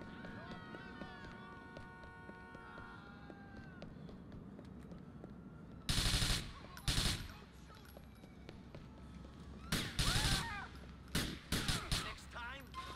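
Gunfire in the video game GTA 4 comes as several loud bursts of shots over an ongoing background of game noise and engine hum, with a player talking.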